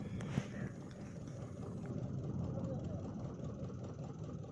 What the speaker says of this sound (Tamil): இப்போ பாருங்கள், நம்மளை கடந்து எவ்வளவு வேகமாக அதே வேகத்தில் நம்மளை விட்டு எவ்வளவு தூரத்தில் போய்கிட்டு இருக்குன்னு பாருங்கள்